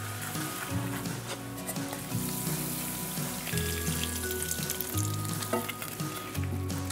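Hot caramelized sugar syrup, thinned with a little water, pours into a greased dish for a ginger custard flan, giving a steady close sizzle and bubbling frying hiss with soft stirring and clinking throughout.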